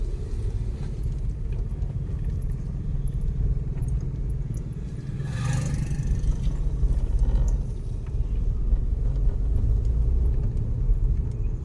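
A car rolls along a broken, muddy road on the way to Vannamma Lake, a steady low engine rumble and road noise with faint clatter, swelling slightly midway as it bumps along.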